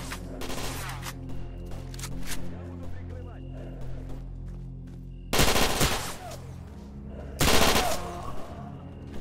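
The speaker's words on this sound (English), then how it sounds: "Wow, you missed all those shots." Gunfire in S.T.A.L.K.E.R. Anomaly, with two loud bursts of rapid automatic shots over constant in-game background noise and someone talking.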